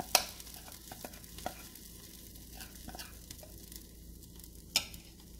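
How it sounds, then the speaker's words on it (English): Soft, steady sizzle of cornbread batter in a hot cast iron Dutch oven with a few sharp clinks and taps of metal, fairly quiet and close, no voices. "you can see that it's good and hot because it's starting to sizzle"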